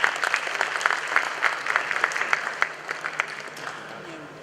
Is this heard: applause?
yes